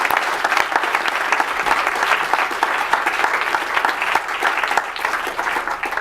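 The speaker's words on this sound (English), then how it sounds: "maybe a round of applause for all of those people" An audience at a relaunch event gives a round of applause, dense steady clapping filling the room for several seconds without a break.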